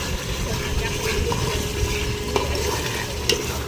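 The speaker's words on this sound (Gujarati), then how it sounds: "જો અહીંયા બટેકાનો વઘાર થઈ રહ્યો છે" Garlic-seasoned potatoes are tempered and stirred in a hot pan: a steady, fairly loud sizzle of frying under continuous stirring scrapes, with a couple of sharper clinks of the spoon, and no talking.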